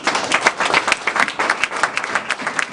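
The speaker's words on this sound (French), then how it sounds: "On peut acclamer la parole." A church congregation applauding during a sermon, many hands clapping together in a lively, uneven burst that fills the room for a few seconds without any talk.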